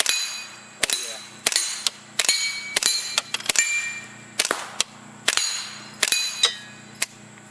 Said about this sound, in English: You can clearly hear the noise is all hitting those steel plates